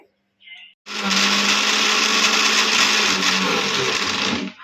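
A kitchen blender whirs loudly and steadily, grinding green sandwich chutney thickened with sev; a short faint noise comes first, then the motor roars up and runs at constant pitch until the end, with no voices.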